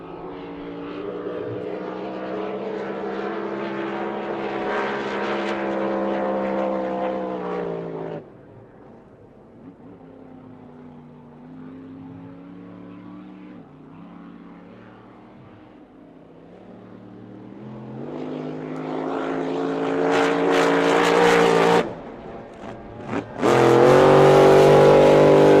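Powerboats roar away from the start of the Glenmaggie Cup race, a loud sustained engine drone that fades and drops back before surging in again with rising, close-by revving.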